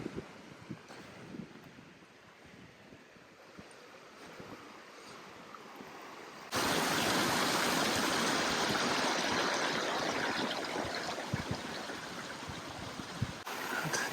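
A mountain stream near a waterfall in Canmore, Canadian Rockies, Alberta, burbles quietly at first, then the rushing flow jumps much louder and stays steady and near, a dense watery hiss with no talking.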